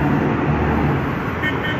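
Steady road noise of cars rolling along a quiet street in Taiwan, a continuous moderate hum of passing traffic with a faint horn-like tone near the end and no talking.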